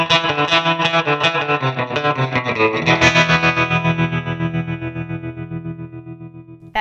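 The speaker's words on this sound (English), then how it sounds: "I want to add a little more dramatic tremolo to the end of that" Electric guitar through a Fender Mustang GT amp on a surf preset with vintage tremolo: strummed chords pulse in a steady wobble, then ring out and fade; loud and alone.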